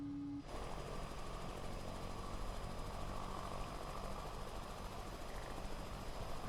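A flight simulator game helicopter drones steadily throughout at moderate loudness, a continuous broadband engine and rotor rumble with a faint high whine, starting just after a brief quiet moment.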